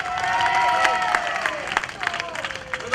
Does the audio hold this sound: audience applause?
yes